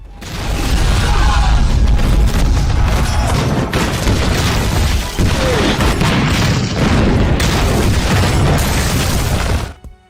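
Loud, heavy booms of heavy cannon fire roll together into a continuous thundering barrage, dense and close, before cutting off abruptly at the end.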